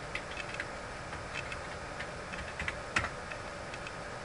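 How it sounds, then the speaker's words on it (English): Someone types a password on a computer keyboard, producing a run of soft, quick key clicks at an uneven rhythm, fairly faint and close, with one slightly louder tap near the end. "I'm going to type in my password here."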